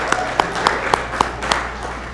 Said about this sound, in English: And another big round of applause for Paul McGuire